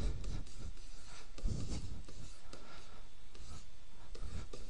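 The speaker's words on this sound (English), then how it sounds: "So we can go ahead and write that definition here." Handwriting a definition on a surface produces steady scratchy pen strokes in short repeated bursts, close and fairly quiet throughout.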